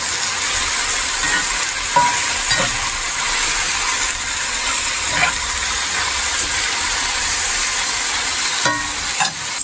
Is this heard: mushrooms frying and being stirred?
yes